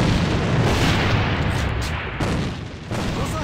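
An enemy grenade blast in a shooter video game, a dense, loud boom that fills the whole clip, trailing into sustained rumbling noise with a few shorter bursts near the end.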